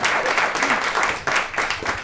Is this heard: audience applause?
yes